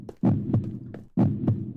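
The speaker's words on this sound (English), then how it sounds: "Heartbeat." Heartbeat sound effect in an anime scene: two deep, booming lub-dub pulses about a second apart, loud and close, each thud followed by a softer second beat, with no speech.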